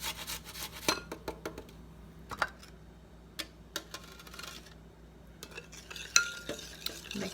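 A spoon works grated ginger into a mixture with a string of quick, light clicks and scrapes against the bowl, irregular and close, with quiet pauses between bursts.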